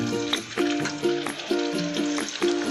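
Garlic and green chili sizzle in hot oil in a pan: a steady frying hiss, close and moderately loud, with recurring tonal sounds in the background.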